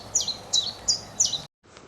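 Bright bird chirps and whistles repeat in four quick, evenly spaced bursts at close range over soft outdoor background noise on a UK smallholding in early spring, then a brief silence and a quieter tail.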